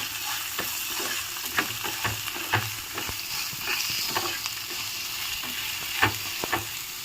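Turmeric and salt frying in a pan while being stirred, a steady close sizzle broken by repeated scraping strokes of the spoon, alone with no talk.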